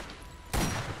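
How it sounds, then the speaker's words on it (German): A sudden loud burst of weapon fire in the Borderlands video game cuts in after a quiet moment and carries on as a dense, sustained volley. "Ich schieß grad rein."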